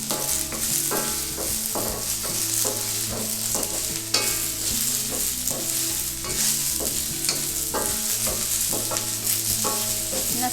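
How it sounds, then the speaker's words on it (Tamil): Onions and green chillies sautéing in a pan for a keerai curry: continuous close sizzling and frying with repeated scraping stirs of a spoon against the pan, steady and fairly loud throughout. "வெங்காயம் எல்லாம் போட்டு திரும்ப வதக்கலாம்."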